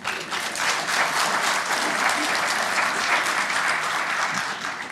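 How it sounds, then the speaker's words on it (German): Dense, sustained clapping from a large audience at a talk show, even and continuous throughout, with no voices standing out. "Darf ich mal einen Applaus hören?"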